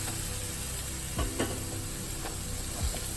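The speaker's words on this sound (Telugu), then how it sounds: "రైస్ వేసేసి బాగా కలుపుకున్నాం." Tomato rice is stirred in a pan as rice is mixed in, with a few scraping spatula strokes over a low, continuous sizzle and no voices.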